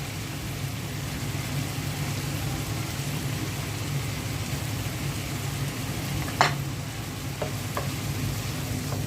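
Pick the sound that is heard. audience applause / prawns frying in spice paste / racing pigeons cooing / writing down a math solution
prawns frying in spice paste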